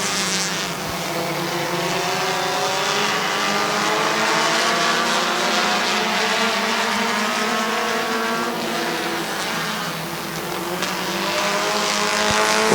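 Race cars lapping a speedway oval track near the end of a race, a loud continuous roar of several engines with pitch shifting as cars pass, heard from trackside without talk.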